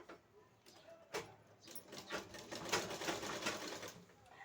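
Sewing machine stitching a cross strip onto a simple blouse, a faint, quick mechanical chatter in uneven bursts that builds to steady running, with no talk over it.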